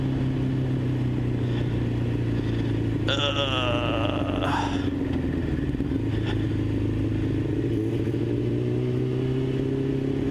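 A Yamaha R6 motorcycle engine runs close by with a steady, uneven throb that sputters now and then, and a voice cuts in briefly midway.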